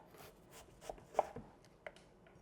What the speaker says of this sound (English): And you just slice down 1/4 inch.